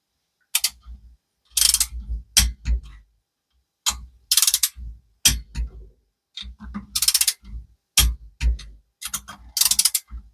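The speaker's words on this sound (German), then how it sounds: "Ziehen wir das mit Drehmoment an." A torque wrench tightens small screws on a Vespa 50cc engine, giving close, sharp bursts of rapid ratcheting clicks separated by short pauses of silence.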